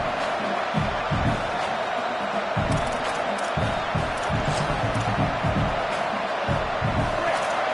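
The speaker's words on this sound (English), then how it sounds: "This crowd, full throat, splitting the eardrums" Full-throated football stadium crowd at an OU vs UCLA game roaring loudly and continuously, with bursts of cheering and deep thumping accents rising over the sustained din.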